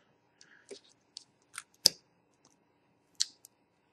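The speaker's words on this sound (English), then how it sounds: "So rather than bother desoldering it, I'm just going to cut the end off" Cutters snipping through the end of a microphone cable, a few sharp close clicks and snaps with one louder crunch midway and a final click, faint and sparse against near silence.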